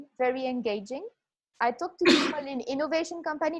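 A single sharp sneeze bursts out in the middle of a conversation, breathy and close, surrounded on both sides by a person talking steadily.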